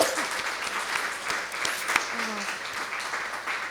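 Audience clapping at a book festival reading, a moderate, fairly quiet patter of hands with scattered sharper claps, steady throughout and heard at some distance in the hall.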